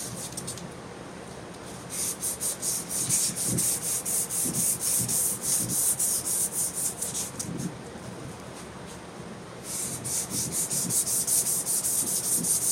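Hand sanding rust off the metal surface of a Wood-Glide lathe, a steady rasping scrub in repeated strokes with a short pause midway, close and fairly loud, no voices.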